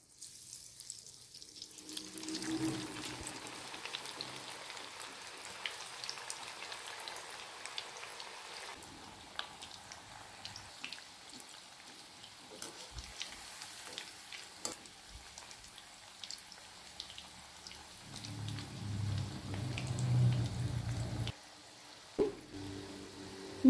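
Baby corn fritters frying in hot oil on a gas stove, giving a soft, steady bubbling sizzle with scattered crackles that swell slightly near the end.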